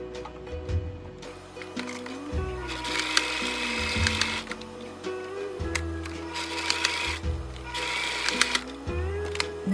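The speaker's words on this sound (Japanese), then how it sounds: "次にウエスト布を中表で合わせて1センチの縫い代で縫い合わせ" A sewing machine stitches waistband fabric with a 1 cm seam allowance in repeated bursts of rapid whirring, separated by short pauses and clicks as the cloth is adjusted.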